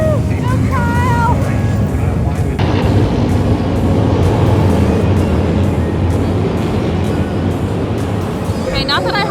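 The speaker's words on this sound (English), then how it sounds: "these baggers ripping around the track just sound so much better" Harley-Davidson bagger motorcycles ripping around a race track at Daytona Bike Week, a loud continuous engine roar with passing surges, heard from the bleachers among a crowd with people talking.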